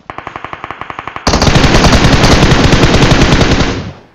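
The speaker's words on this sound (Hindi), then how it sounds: "पीछे की तरफ से फायरिंग हुई है" Automatic gunfire in the mobile battle royale game BGMI: a quick string of distinct shots, then a loud, sustained burst of rapid fire that cuts off abruptly, very close and dominant with no talk.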